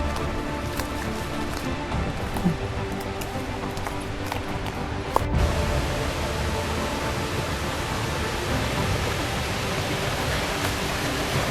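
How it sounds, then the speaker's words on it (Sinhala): Steady, full rushing of a stream and waterfall at Kaluwa Watunu Ella, a constant close wash of water with a brief knock near the middle. "වතුර පාර සද්ද ඇහෙනවා."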